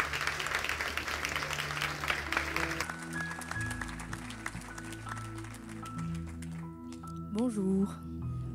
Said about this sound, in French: L'Église peut acclamer le Seigneur.